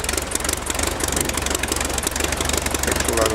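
A 1912 Taube F aircraft engine runs steadily and loudly after starting, with a continuous rough, knocking drone and no break in the sound.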